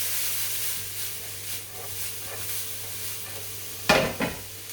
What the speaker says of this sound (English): Now we'll let that sizzle through.